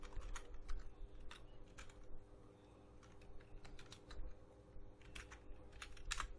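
Steady, close computer keyboard typing as Python code is entered, irregular rapid key taps running throughout over a low background hum.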